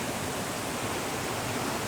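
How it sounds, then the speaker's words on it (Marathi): A waterfall near the Kondane caves in Karjat roars as a constant, dense rush of falling water, close by and with no other sounds. "गाईज धबधबा बघताय, एकच नंबर."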